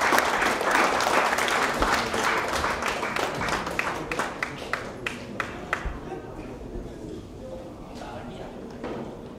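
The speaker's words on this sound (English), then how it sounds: "Big round of applause." Audience applause at the 2016 Singapore Snooker Open final, a dense sustained clapping that thins out into scattered individual claps toward the end.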